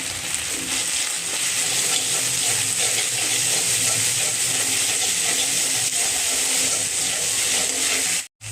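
Onion, ginger, green chili and garlic paste frying in hot oil for a light tomato fish curry, a loud continuous sizzle with faint stirring scrapes throughout, close to the pan, ending in a brief cut.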